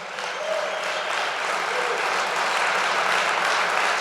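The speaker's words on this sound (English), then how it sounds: "you should applaud that, absolutely" A crowd at a Convention of States rally in Iowa applauds in a steady, dense wash of clapping that stays even and fairly loud throughout, with a faint voice briefly audible early on.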